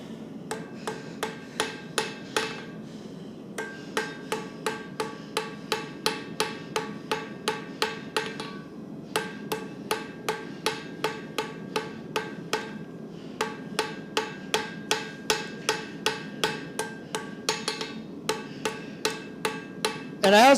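Hammer forging and planishing metal with steady, evenly spaced ringing blows, close and crisp, in several long runs separated by short pauses.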